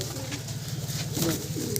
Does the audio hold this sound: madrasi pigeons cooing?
yes